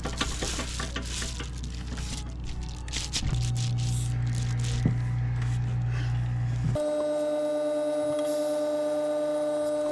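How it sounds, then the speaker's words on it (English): A vacuum pump runs steadily while stabilizing box elder wood for bowls, giving a constant mechanical hum that changes pitch partway through and then settles into a smooth, tonal drone with no talking. "so I'm going to vacuum this for a while"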